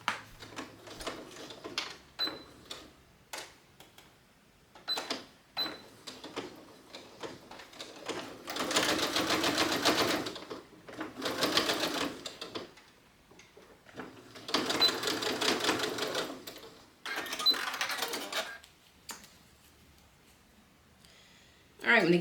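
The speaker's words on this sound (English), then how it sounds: "head over to the machine and we're going to sew that at about 1/4 inch seam" A sewing machine stitches a quarter-inch seam on a wristlet strap in several bursts of a few seconds each, with pauses between. Between the runs there are quieter handling sounds, and someone may be talking softly.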